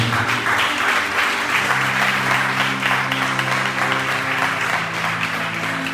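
A church congregation applauding the Lord during a service, sustained dense clapping from many hands filling the room, loud and continuous with a faint murmur of voices beneath.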